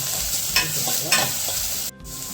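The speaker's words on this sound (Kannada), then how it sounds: "ಈಗ ಗಾರ್ಲಿಕ್ ಹಾಕ್ತಾ ಇದ್ದೇನೆ. ರೊಟ್ಟಿಗೆ ಶುಂಠಿ ಕೂಡ ಹಾಕಿದ್ದೇನೆ." Garlic and ginger sizzling and frying in a pan for Indian masala pasta, a steady close crackle with a few spoon stirs rising through it, then a quick drop and the sizzle continuing.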